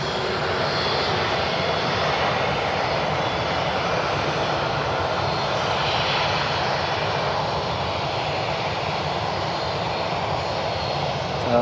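A United airliner takes off at Cleveland Hopkins airport, its engines a loud, steady roar that holds almost unchanged throughout, heard from fairly close with no voices.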